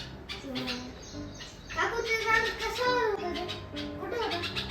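Thin, high peeping calls of a young sparrow repeat in quick bursts, close by, with voices talking over and between them.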